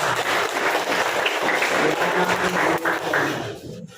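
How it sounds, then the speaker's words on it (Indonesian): Classroom applause from a group of pupils, a steady dense patter of clapping lasting several seconds before fading out at the end. "tepuk tangan untuk kita semua"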